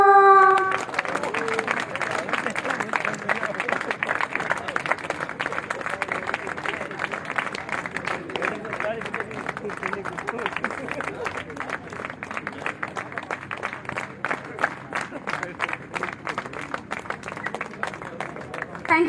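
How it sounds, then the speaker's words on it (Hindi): Long, steady round of crowd clapping at a depot grand opening celebration in Didwana, with individual claps distinct and a voice on a loudspeaker at the start. "तालियां।"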